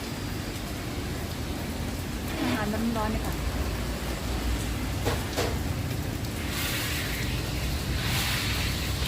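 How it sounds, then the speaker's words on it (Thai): Steady, dense rain pours down outdoors at a street food stall, a constant broadband wash filling the scene while someone talks over it. "ติดฝนค่ะ"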